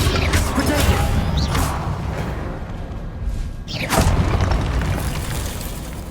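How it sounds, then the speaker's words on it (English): Confringo fire-blast spells exploding in Hogwarts Legacy, a dense run of booming blasts and whooshing bursts with one sharp crash near the middle, loud and continuous over a rumbling game soundscape. "Incendio! Confringo! Confringo!"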